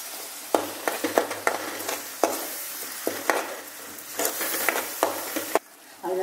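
Ground tomato fries in a pan for a country mushroom thokku while a spoon stirs it, giving a steady close sizzle broken by repeated scraping strokes.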